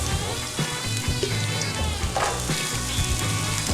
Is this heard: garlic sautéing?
yes